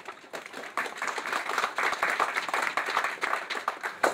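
An audience at a groundbreaking and naming ceremony for a new residence hall claps steadily, a dense patter that swells and holds without pause.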